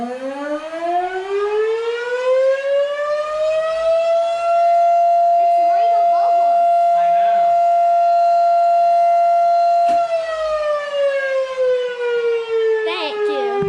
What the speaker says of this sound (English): Yep, they're all zoomed in on your siren.